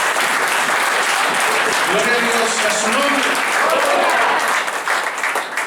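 Church congregation clapping hands steadily and loudly throughout, a dense continuous wash of applause with a voice speaking and praising over it.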